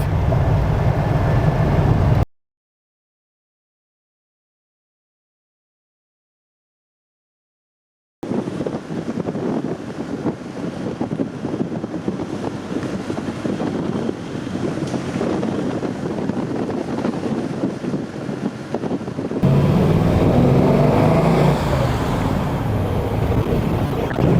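A 1941 Ford Super Deluxe cruises at about 90 km/h, its steady engine and road roar mixed with heavy wind buffeting; a gap of silence interrupts the drive before the rumble resumes, louder toward the end.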